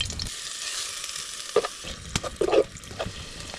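Pork sausage fries in hot oil in a pan, a close, steady sizzle with a few brief scrapes and pops of stirring near the end.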